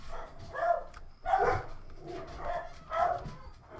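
Repeated barks from a dog in the Roblox game Framed, several loud, close yaps in an uneven rhythm with short whimpering tones between them.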